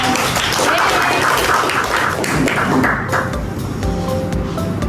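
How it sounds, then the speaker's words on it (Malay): A classroom of students applauding on the teacher's request, a dense burst of clapping at moderate distance that thins out and fades over a few seconds. "Okey, betul, tepuk tangan kelas."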